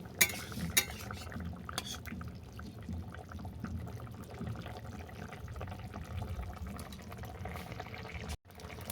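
A spoon stirs sukto made with drumstick greens and lentils in a cooking pot, giving a faint, steady wet scraping and simmering swish with a couple of sharp utensil knocks near the start and no talk.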